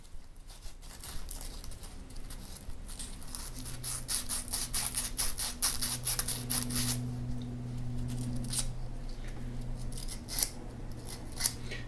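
Emery cloth rubbing a steel brace bit clean, a continuous close scratchy rasping with rapid back-and-forth strokes that swell and fade over a steady low hum.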